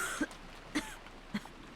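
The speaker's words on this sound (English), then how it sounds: "Cough, cough." Three short, quiet coughs spaced about half a second apart, each a brief throaty burst over a faint background with a soft tone lingering early on.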